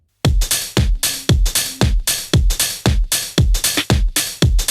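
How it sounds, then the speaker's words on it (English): A drum beat built on a 909 kick with swung hi-hats, repeating steady punchy hits with bright, crisp cymbal ticks riding the groove throughout, loud and alone. "And just gets some swingy 909 hi-hats."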